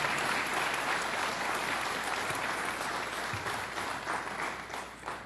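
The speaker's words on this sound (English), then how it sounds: "Let's give him a round of applause." Audience applause at a public budget event with the New York governor on Long Island, a dense sustained clapping that fades slightly toward the end, with no talk over it.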